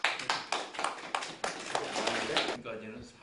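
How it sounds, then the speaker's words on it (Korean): Applause from a small group of people at an investment agreement signing ceremony for a hydrogen-themed renewable energy project in Jecheon, a burst of close, steady clapping lasting a few seconds before it thins out. "옆에 분들 박수 좀 쳐주세요."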